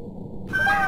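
A cat meows in a video game, a short bright high-pitched call that rises out of low game background noise and grows louder toward the end.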